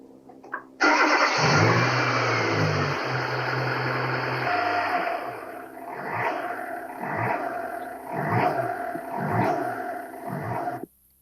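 Car engine with its coolant temperature sensor connector unplugged, at 5 °C coolant, cranks and fires loudly, settles into a steady idle, then surges up and down repeatedly in a hunting rhythm before cutting off.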